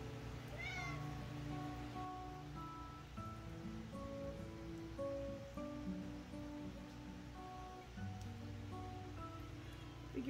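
A cat meows faintly, once, near an aquarium tank amid a steady broadband hiss and low hum, with no talk.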